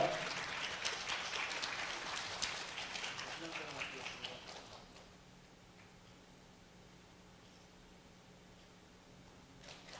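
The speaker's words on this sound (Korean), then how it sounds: "축하의 박수 부탁드리겠습니다" A crowd claps for several seconds, a dense patter that fades out, leaving a quiet room with a low hum.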